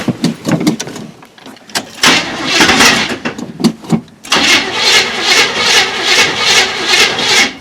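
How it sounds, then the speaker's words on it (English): A Chevrolet K20 truck engine cranks on its first start attempt in 20 years, loud repeated starter churning in bursts with short gaps, close and harsh, with no voices. "You can try and start it some more if you want."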